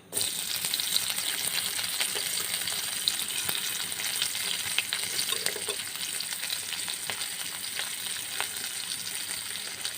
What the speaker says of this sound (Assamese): প্ৰথমে মই ইয়াতে পিঁয়াজখিনি ভাজি লৈছোঁ।